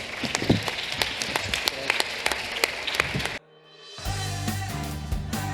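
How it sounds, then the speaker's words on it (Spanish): An audience claps enthusiastically, a dense burst of applause for a few seconds, then it cuts abruptly to music. "Un aplauso"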